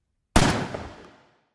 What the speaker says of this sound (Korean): 쿵 하는 포소리가 울리더니